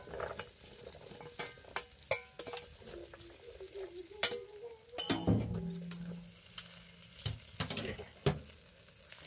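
Onion frying in butter in a frying pan, a soft, faint sizzle under scattered clinks and clatter of utensils against the pan, with a short tonal scrape partway through.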